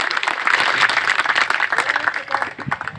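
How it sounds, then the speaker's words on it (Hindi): An audience clapping at an outdoor commemorative gathering, a burst of many hands applauding at fairly close range, uneven and fading toward the end, with a little chatter under it. "एक बार दोनों हाथ ऊपर उठा के इन भाइयों के लिए ताली बजाइए।"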